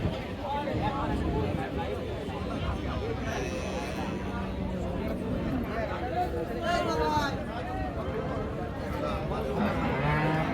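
Friesian cows at a busy cattle market in Dinajpur, with loud moos rising out of a dense crowd, babble and voices nearby talking throughout.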